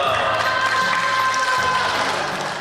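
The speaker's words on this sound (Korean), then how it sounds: "자, 큰 박수와 함께 출발하도록 하겠습니다." A crowd claps steadily and densely at the opening of the 18th Wonju Couples Festival, a broad sustained burst of applause heard alone without speech.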